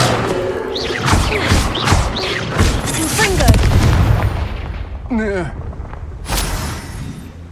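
Explosive blasts from a Confringo blasting spell in Hogwarts Legacy, several booming impacts in quick succession amid game sound effects, with a voice shouting spell incantations over them.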